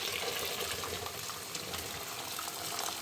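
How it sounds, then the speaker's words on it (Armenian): Hot water pours steadily into a pot, a soft continuous gush lasting a few seconds at close range. "Անգամից երման ջուր եմ լցնում,"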